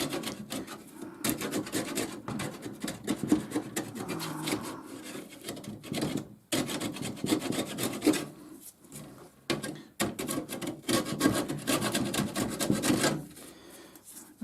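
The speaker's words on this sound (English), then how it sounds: "I'm just scraping off the loose paint," An old chisel scrapes loose paint off a metal lamp post, giving repeated close, rasping strokes in an uneven rhythm with short pauses between passes.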